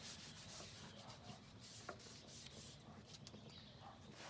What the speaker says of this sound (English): Scrub it up.